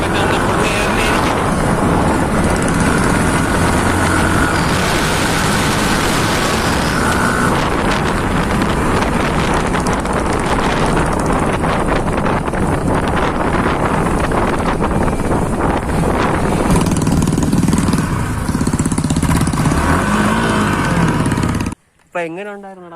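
Yamaha R15 V4 motorcycle ridden at speed, with heavy wind rush over the microphone and engine roar sustained loud and steady, cutting out abruptly near the end.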